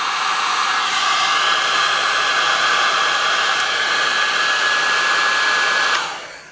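A heat gun blows steadily for about six seconds, shrinking heat-shrink tubing over LED strip connections, with a loud, even airflow hiss and a faint whine that cuts off near the end.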